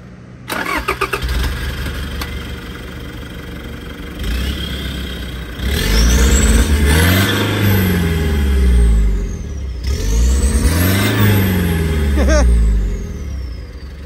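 A car engine cranks and catches after a short starter burst, then revs up hard several times in rising and falling sweeps before settling back to idle. It is loud and close, with brief voices in the background.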